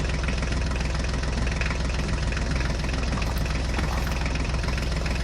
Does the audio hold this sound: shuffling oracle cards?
no